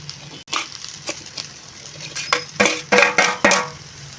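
Boiled potatoes are tossed into a hot pan for potato curry, giving a soft sizzle under a series of sharp metal spoon scrapes and clinks against the pan, close up.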